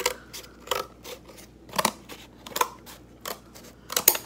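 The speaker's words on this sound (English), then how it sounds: "and now I'm going to cut kind of like a cone shape. I'm gonna cut up, and I'm gonna cut up again on the other side." Scissors cutting paper into a cone shape for a 4th grade volcano project, a steady series of about eight close, crisp snips at roughly half-second intervals, with no talking.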